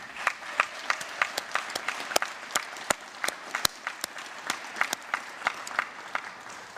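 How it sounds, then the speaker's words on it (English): Scattered applause from a small audience at a commencement ceremony, individual claps landing in a fairly steady rhythm. "Please join me in giving them a round of applause."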